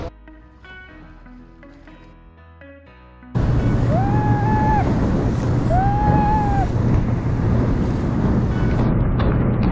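Quiet mechanical sounds give way abruptly to loud, steady rushing wind and crashing surf from a speeding banana boat ride on rough waves in Boracay, with occasional high squeals.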